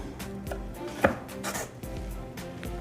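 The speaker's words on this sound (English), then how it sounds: "we're just gonna go and cut ourselves a few of these brownies" A knife slices through plant-based black bean brownies, making a handful of sharp, close knocks against the board at an uneven pace over a low steady background.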